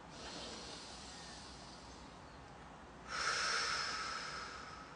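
Steady airy inhalation through the nose, soft and close, with a stronger hissing draw of breath in the later half; no talking.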